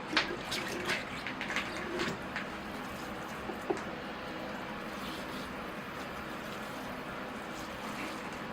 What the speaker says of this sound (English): let me add a bit of water to it now.